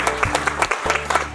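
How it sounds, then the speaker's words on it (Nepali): A wedding congregation at a Nepali Christian ceremony claps together in steady, even bursts, loud and close, with a brief pause partway through. "ताली बजाउनुहोस्।"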